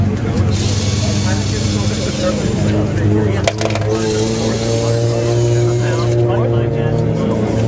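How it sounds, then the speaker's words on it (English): A Ford Mustang engine rumbles loudly and steadily at a car meet, a deep continuous drone with rising harmonics, while people talk nearby. "That's a Mustang."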